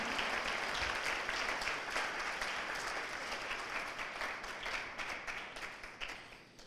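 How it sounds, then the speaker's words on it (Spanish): A congregation applauds together in a Spanish-language evangelical church service, producing dense, sustained clapping that holds steady throughout and only slightly thins toward the end. "Denle un aplauso al Señor"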